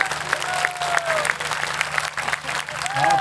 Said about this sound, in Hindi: मैं चाहता हूं दोनों हाथ खड़े करके एक बार तालियां प्रस्तुत करें।